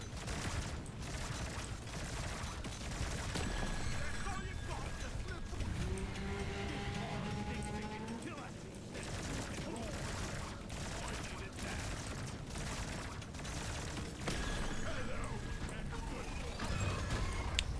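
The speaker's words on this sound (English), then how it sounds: "Big coil gun damage." Coil gun fire in the game Deep Rock Galactic: Survivor, rapid repeated shots and crashing impacts over a constant loud stream of in-game noise, with a voice talking over the action.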